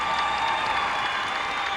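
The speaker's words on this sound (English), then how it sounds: "He should get a big round of applause here for the job he's done." Crowd applause at a 1996 NCAA regional final basketball game, a steady wash of clapping from a large arena audience filling the whole brief moment at even loudness.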